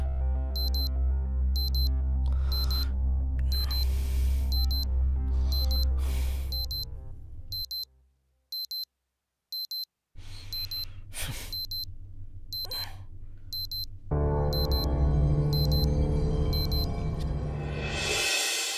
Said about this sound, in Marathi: केव्हापासून अलार्म वाजतोय? बंद कर ना तो.